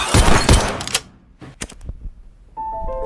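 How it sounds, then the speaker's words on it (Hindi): Gunfire in a gangster prison movie scene: a loud rapid burst of shots riddling a man, then isolated sharp shots and thuds, ending with a steady tonal hum. "हान यहाँ पर उसके साथ धोखा करने के लिए मंचोल को गोलियों से भून देता है।"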